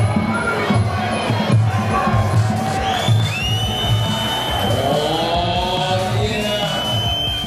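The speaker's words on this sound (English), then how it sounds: "roar of the crowd." A boxing crowd roars and cheers loudly and continuously, with whoops and shouting swelling through a packed arena, voices blending into a dense wall of noise.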